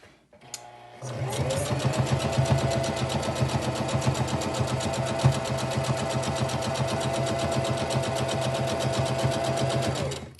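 A sewing machine stitches along the edge of fabric for a face mask, starting after a brief pause and then running steadily and fairly loud for about nine seconds, with no voices.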